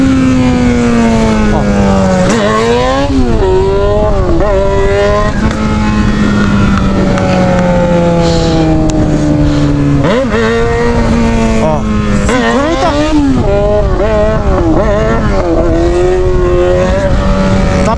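Yamaha XJ6 motorcycle with an aftermarket exhaust pipe, ridden on the road: the engine note rises and falls loudly through repeated revs and gear changes, with wind rush and the rider's voice over it.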